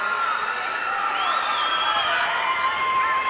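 Tantramar Titans fans cheer and shout in the stands at a provincial AA high school basketball final, a busy, steady crowd roar with scattered whoops.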